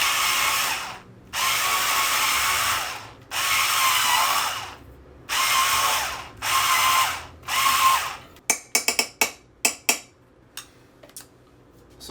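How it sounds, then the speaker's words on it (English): An immersion blender mashing potatoes whirs in several sustained bursts of a few seconds each, then gives a run of short, sharp pulses near the end, close up and loud. "But I have a potato immersion blendery thing."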